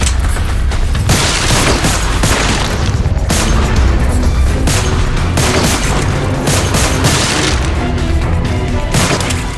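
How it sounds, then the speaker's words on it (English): Heavy gunfire and booming blasts from the video game Lost Planet 3 crash in loud, repeated bursts, close and relentless across the whole stretch. "Some shooting there"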